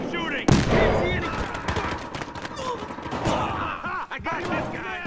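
Gunfire from a Battlefield Hardline multiplayer match crackles as a sharp near shot and scattered bursts mixed with other game sounds, while a player talks over it.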